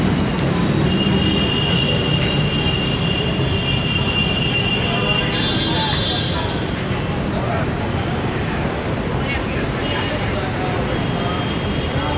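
Busy elevated train station ambience in Mumbai, India, with a steady rumble of rail traffic, faint squeals and murmuring crowd voices throughout.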